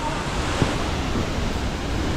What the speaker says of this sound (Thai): โอ้น้ำตกสวยมากเลยนะครับ